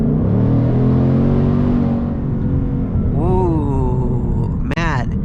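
2024 Ford Mustang GT V8 at full throttle, heard from the cabin as a loud, steady engine roar that eases off, then climbs again with rising pitch before a brief sharp burst near the end.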